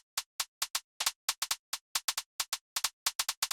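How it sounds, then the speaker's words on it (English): A closed hi-hat sample plays alone in a UK garage beat, giving crisp, short ticks in a fast, slightly swung, off-grid pattern with clear silence between hits. "Then I wanted to layer the hi-hats with some extra closed hi-hat."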